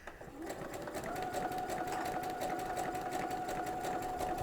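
A sewing machine fitted with a fringe looper foot stitches at a slow, even pace with very short stitches, producing a steady rapid ticking hum, close and fairly quiet.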